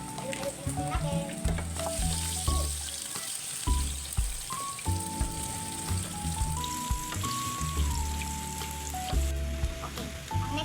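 Onion sizzles and fries in a pan while being stirred, a steady crackle with scraping, and music plays over it throughout.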